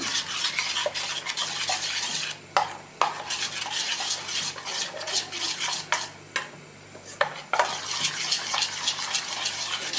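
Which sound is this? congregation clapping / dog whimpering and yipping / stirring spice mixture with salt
stirring spice mixture with salt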